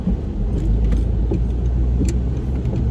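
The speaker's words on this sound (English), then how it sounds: "I'm just going to come out of this roundabout now, and I'm going to put it into first gear" An Audi Quattro four-wheel-drive car pulling away from a roundabout in pouring rain, heard from inside as a low steady engine rumble with road noise and faint rattles, no talk.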